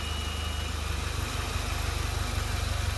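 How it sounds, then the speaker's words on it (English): A stock Mitsubishi Mirage engine on stock injectors idles steadily with a low, even rumbling pulse, close and continuous, with faint hissing above it. "that's just the idle on the stock injectors"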